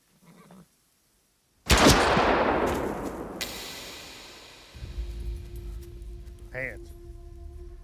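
A single loud pistol shot in a western film rings out sharply and decays with a long echoing tail, preceded by a brief faint sound and followed by a low rumble and a short animal-like cry.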